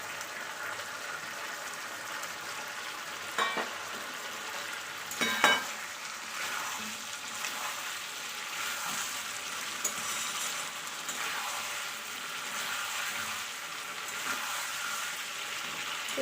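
Potatoes fry in a pan for a Bengali chicken dak bungalow, giving a steady, even sizzle close by with a couple of brief stirring knocks and no talking.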